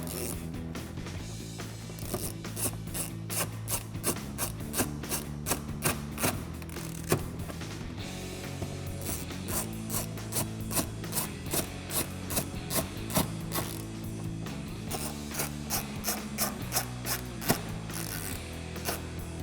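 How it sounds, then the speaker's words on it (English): A 1/4-inch ratchet driver with a Phillips bit tightens headlight screws on a 2005-2009 Ford Mustang, giving a steady run of quick ratcheting clicks over a constant background hum. "I'm going to take my 1/4" drive with my Phillips bit on it and tighten these up."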